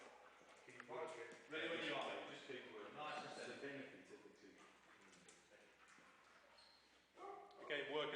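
A dog barks and yips in short bursts during a scent detection search, with a voice talking over much of it.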